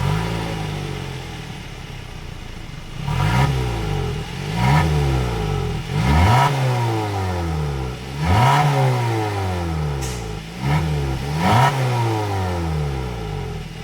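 A 2026 Hyundai Tucson exhaust with a single outlet, first idling steadily and then revving repeatedly in sharp blips that rise and fall back, heard close up with no talking.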